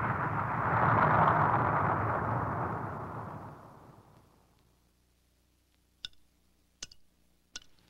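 Firecracker explosion slowed down 1,200 times: a long, deep roaring boom swelling and fading over several seconds, then three sharp isolated clicks.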